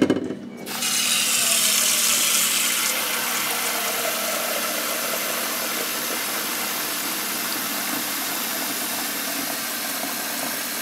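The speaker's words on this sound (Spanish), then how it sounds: "Ahora vamos a llenar la olla" Water pours steadily from a tap into a cooking pot in a home kitchen, a continuous bright rushing splash that starts abruptly and holds even, close up with no talking.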